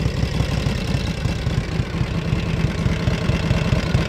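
A 1958 Harley-Davidson Duo-Glide motorcycle engine idles loudly and close, with a low, uneven loping rumble and no voices.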